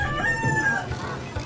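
Native chickens carried by a vendor at a provincial market in Oras, Eastern Samar, giving brief clucks and a short crow-like call, close and fairly loud against market background noise.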